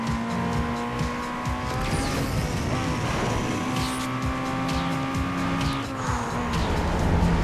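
Racing car engine in the video game Need for Speed Underground 2, revving loudly and steadily with rising and falling pitch through gear shifts, tire squeals and skids throughout, no talk.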